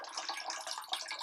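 Thin stream of water flowing continuously in a physics demonstration of light guided along the stream, a soft faint splashing trickle with small irregular bursts.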